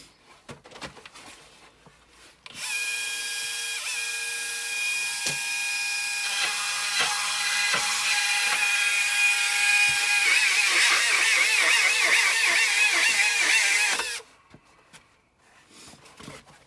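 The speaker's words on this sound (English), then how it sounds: "This is where the saw or the nano blade comes in." Power saw with a nano blade cutting through pallet nails and wood, a steady high whine running for about twelve seconds before stopping, close and loud.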